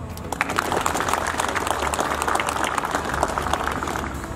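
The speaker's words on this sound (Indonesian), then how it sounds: "Tepuk tangan untuk kita semua." An audience claps steadily at a police farewell-and-welcome ceremony for the Aceh Utara police chief, a dense round of applause from a moderate distance with little talk.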